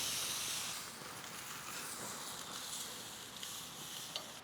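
A pepper-crusted steak sizzles on a very hot grill burner, a steady soft hiss of frying with faint crackles and a brief pop near the end, heard alone and fairly quiet.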